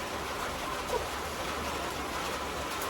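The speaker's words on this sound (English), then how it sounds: "Listen to this rain." Steady, dense hiss of rain falling, even and continuous throughout with no voices, like a downpour heard from close by.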